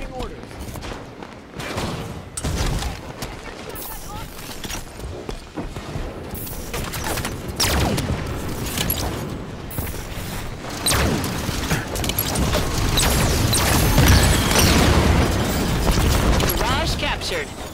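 Rapid gunfire bursts and booming explosions from the video game Halo 5 build into a dense, loud battle, with in-game voices speaking over the shooting.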